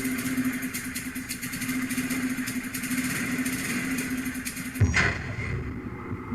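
A gasoline engine runs with a steady, droning hum at a constant pace, then a brief clunk near the end as the sound drops off.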